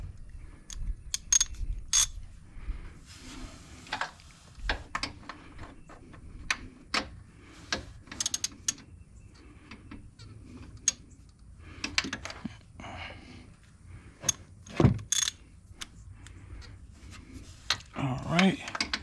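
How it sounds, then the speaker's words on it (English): Metal clicks, ticks and ratcheting from tools while a bracket is removed from a 2005 Buick Park Avenue during a transaxle mount replacement, short irregular bursts close by with a low background hum. "I'm gonna go ahead and take off this bracket"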